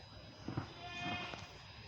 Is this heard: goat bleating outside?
yes